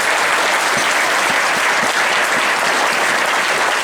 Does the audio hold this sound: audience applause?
yes